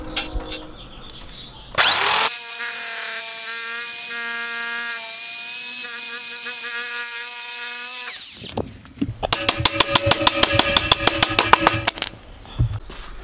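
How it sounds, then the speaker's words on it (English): A jigsaw cuts out the rubber bushings from a Nissan 350Z subframe, a loud steady whine with a strong harmonic tone for about six seconds, then a rapid rattling chatter of the blade stroking through the material. "Now I'm just going to use the jigsaw to cut these out."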